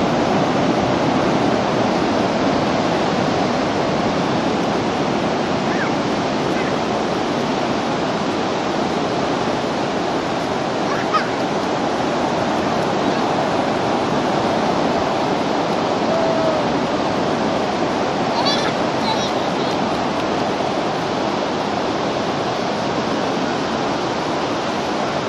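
Waves wash continuously onto a beach in the afternoon, a steady, broad roar of surf with no breaks and faint wind, close and fairly loud throughout.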